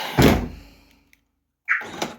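A car door shuts twice during work on a car under reassembly, each time with a close, solid thunk; the first close is followed by a fading rattle and a brief silence before the second.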